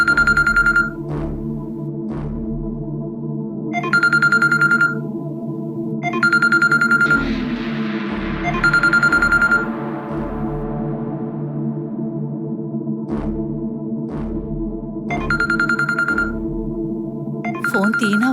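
A phone ringtone repeats in bursts of a bright melodic tone, several rings across the stretch, loud and close over a steady background hum and low music.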